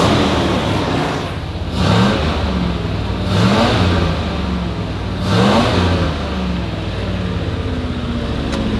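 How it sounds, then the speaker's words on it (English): The engine of a Rover P6 Series 1 Estate revs hard up close, rising in three distinct surges over a steady, rough idle running loud throughout. "It actually revs now."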